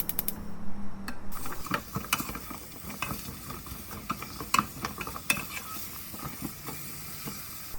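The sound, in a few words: radish stir-frying in sesame oil in a pan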